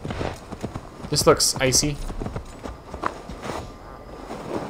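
Horse hooves clop along in Assassin's Creed Valhalla on icy ground at an uneven sprinting pace, moderately near, under someone speaking briefly.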